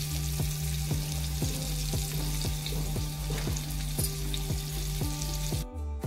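Stuffed mackerel shallow-frying in oil with a steady, close sizzle, punctuated by regular rhythmic scraping or tapping strokes about every half second, ending with a brief quieter moment.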